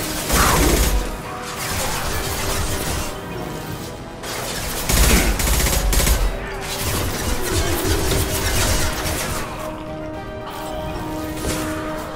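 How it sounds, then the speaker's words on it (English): Impact gun firing in the video game Mass Effect 2, heavy booming shots repeating through a dense, continuous din of game combat, loud and close. "Firing an impact gun!"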